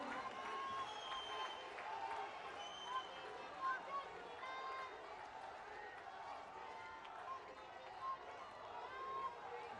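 A large rally crowd in Una, Himachal, applauds Prime Minister Narendra Modi, a dense, far-off roar of clapping and cheering that holds steady throughout with no single voice standing out.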